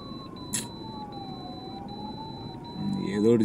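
An ambulance siren wails through a traffic jam on a road trip between Andhra Pradesh and Tamil Nadu, its slowly sweeping tone sounding steadily over the rumble of idling vehicles, with a brief sharp noise midway.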